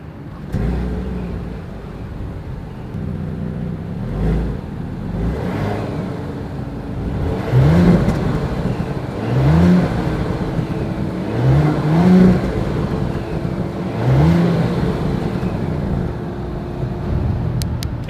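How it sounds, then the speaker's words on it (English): A 2020 Audi Q8 idles and then revs repeatedly, several sharp exhaust blips rising and falling in pitch, loud and close. "As always, here is that exhaust clip."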